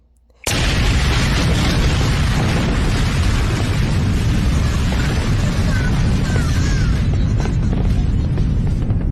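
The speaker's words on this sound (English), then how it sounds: "The bombs all detonate, and the entire tower is blasted into space." Bombs detonate and a tower blows apart in a Wii video game: a sudden, loud blast that erupts after a brief quiet moment, then a sustained, dense roar of explosions and debris continuing to the end.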